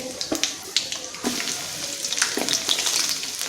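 Mustard seeds, cumin, peanuts and garlic sizzle and crackle in hot oil as they are stirred, with sharp popping bursts over a steady frying hiss at close range.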